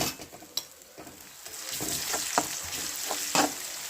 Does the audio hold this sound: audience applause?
no